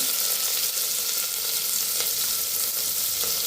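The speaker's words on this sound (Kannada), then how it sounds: "ಚೆನ್ನಾಗಿ ಫ್ರೈ ಆಗ್ತಾಯಿದೆ" Spices such as niger seeds crackle and sizzle in hot oil as tempering for vegetable pulao, a steady close frying hiss that runs without a break and has no talk over it.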